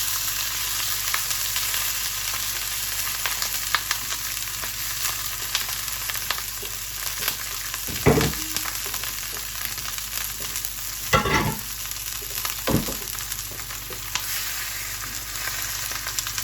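Lamb pieces searing in a hot pan for a Moroccan tagine give a steady, close sizzle and crackle, with a few louder handling bumps as the meat is turned.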